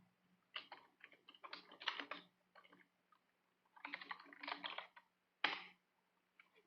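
Typing on a computer keyboard, rapid bursts of key clicks in two main runs with a single louder keystroke after, close and alone, with a low steady hum underneath.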